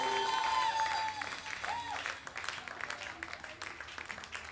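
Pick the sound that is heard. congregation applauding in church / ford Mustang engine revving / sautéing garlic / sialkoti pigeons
congregation applauding in church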